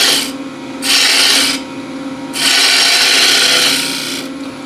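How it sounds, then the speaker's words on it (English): A spindle gouge works wood on a lathe in two loud, close bursts of rasping, shaving cuts, separated by the quieter hum of the spinning workpiece. "Again with the spindle gouge."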